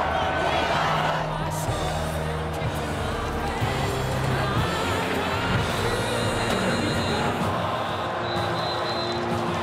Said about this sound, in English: The crowd is crazy. We never see nothing like this. This crowd is mad crazy.